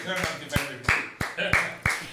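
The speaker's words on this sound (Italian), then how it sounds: "L'applauso." Sparse applause from a small audience at a film presentation, about six distinct claps spaced roughly a third of a second apart over a background of talk.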